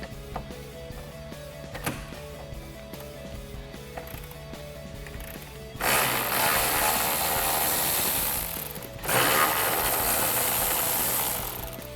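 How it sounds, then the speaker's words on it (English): 8mm socket on a ratchet wrench backing out grille bolts on a Ford F-150: faint clicks at first, then two loud, sustained bursts of rapid ratcheting, close and alone. "So I'll take an 8mm socket and get these out."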